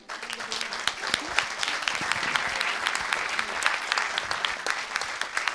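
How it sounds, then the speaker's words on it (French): An audience at a doctoral thesis presentation contest applauds, a lively, close spatter of individual claps building into steady applause that carries on to the end. "Vous pouvez les applaudir"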